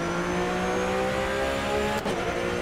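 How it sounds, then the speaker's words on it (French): Porsche Supercup race car at the Nordschleife, a loud sustained engine drone holding steady pitch at close range with a brief dip near the end, no talk over it. "Eh oui, ce son de moteur est plutôt excellent, effectivement."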